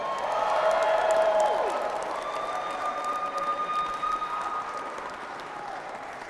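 Audience applause and some cheering at a mayor-elect's victory night, a dense steady wash of clapping that swells early and then holds, with a few whoops.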